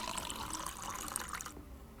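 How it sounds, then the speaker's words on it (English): Water pouring into a pot of cooking dal fry made with toor and moong dal, a steady close splashing and trickling that runs for about a second and a half, then stops abruptly. "Add water to adjust the consistency."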